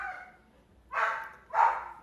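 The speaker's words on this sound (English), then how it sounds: "The dog is going a little bit ham." A dog in Coron, Philippines barks twice in quick succession, fairly close and loud after a fading earlier bark, with no talk over it.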